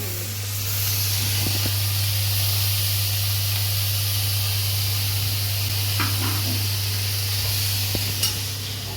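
Vegetables simmering in a home kitchen pot give off a steady bubbling hiss that runs evenly throughout, with a few faint clinks near the end and no talking.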